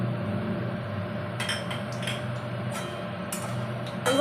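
Bay leaves and mustard seeds being stirred in a metal pan while cooking Maharashtrian dal makhni, with scattered metallic clinks and scrapes of the spoon against the pan over a steady low background hum.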